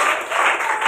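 An audience at an honouring ceremony gives a brief burst of clapping, dense and fairly close, lasting under a second.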